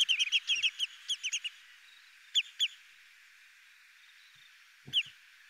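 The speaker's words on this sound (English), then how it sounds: "you can hear that they give out these pip, pip, pip calls, and sometimes they string them together" Yellowlegs shorebird giving sharp, high pip calls, first in a quick string of a dozen or so notes, then a pair and a later double note, clear against quiet surroundings.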